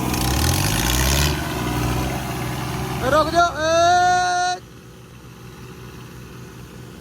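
A Holland or Farmtrac tractor engine labours in a tug-of-war pull, a low rough rumble that's loudest at the start and then sinks under loud shouting voices.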